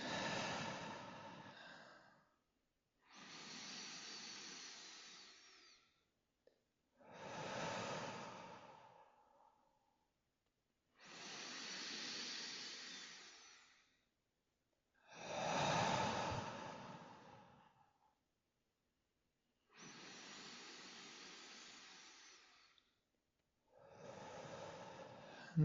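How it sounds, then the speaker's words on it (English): Slow, deep breaths during a guided breathing meditation, seven long inhale-exhale swells spaced a few seconds apart with silent gaps, close and soft, with no talking. "A few more breaths."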